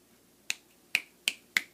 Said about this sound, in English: So when I snap my fingers